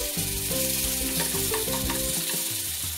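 Ginger garlic paste sizzles with fried onions in a pan for jackfruit curry, a loud, continuous hiss of frying under steady stirring, with a musical tone running through the background.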